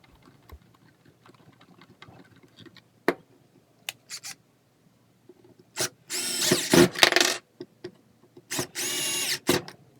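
Power drill driving screws into the casing of a Drill Master 7 in. 10 amp variable speed rotary polisher, several short whirring bursts with clicks and handling noises between, the longest runs near the end.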